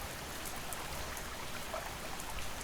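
Steady rain falling at night outside a cabin, a dense, even hiss of drops with no pauses, moderately close and continuous throughout.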